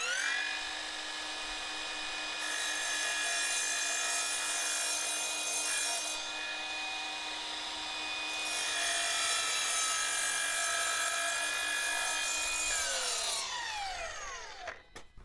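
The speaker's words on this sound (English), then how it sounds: "It's a nice piece of red oak. We're gonna cut this" A cordless 2x20V sliding miter saw bites through a piece of red oak, a steady loud high whine with a gritty cutting rasp that swells and fades, then winds down at the end.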